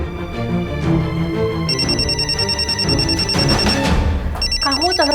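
A telephone rings indoors in a household scene, a steady electronic ringing tone repeating over several seconds amid background music and some talk.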